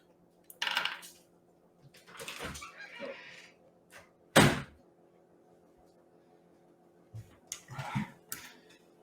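A house door is handled to let a scratching pet dog outside, giving a few scattered knocks, clunks and rattles with quiet gaps between them, close by and with no talking.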